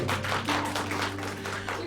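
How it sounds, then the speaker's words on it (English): Brief applause from a small audience at a book launch event, rhythmic clapping heard over a constant low hum. "And applause."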